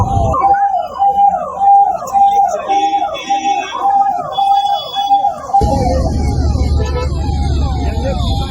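An ambulance siren wails in a fast repeating up-and-down pattern, loud and close, then drops into a heavier rumbling wash of traffic noise as it passes.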